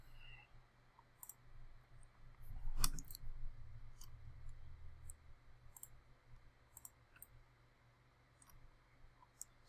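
A computer mouse clicks in quick, faint, scattered bursts while edges are selected in Revit architectural software, with one louder knock early on and a low steady hum in the background.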